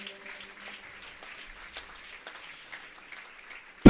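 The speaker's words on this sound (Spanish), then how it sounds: "chia un aplauso cachelat" Applause from a church congregation during a Catholic preacher's sermon in Las Palmas, a steady soft patter of clapping that runs evenly for a few seconds and ends in a sudden loud thump.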